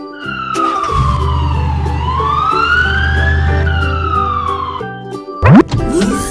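A police car siren from a children's street-vehicle cartoon sweeps loudly down and back up over a steady low engine hum, then cuts off before a quick springy sound effect.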